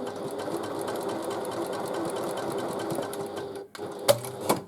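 A sewing machine runs steadily and close up, stitching the side seams of a tote bag in a continuous fast whirring rattle that stops briefly and then gives a few quick clicks.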